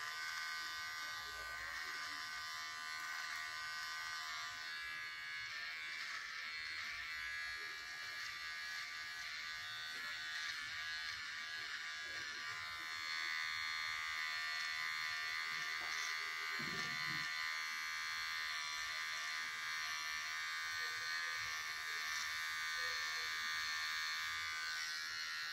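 A VGR V-070 electric trimmer buzzes steadily while lining up a beard, a constant close whine that holds through the whole stretch with faint handling noises and a slight rise in level partway.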